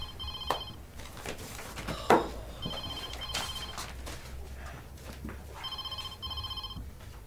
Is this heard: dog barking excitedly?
no